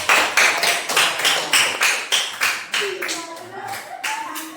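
A group in a classroom claps hands in a regular rhythm, about a dozen sharp evenly spaced claps, with a voice faintly heard toward the end.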